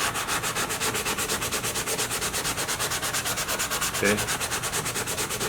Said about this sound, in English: So we're going to sand over this,